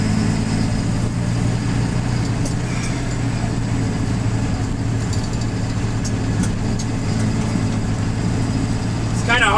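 A truck engine runs while driving across newly cleared land, a steady close low drone with a constant rumble and no distinct gear changes.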